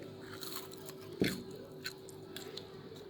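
One sharp, close crunch of a bite into a crisp french fry, followed by a few softer crackles in a quiet room.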